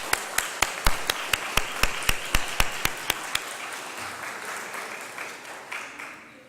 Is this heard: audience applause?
yes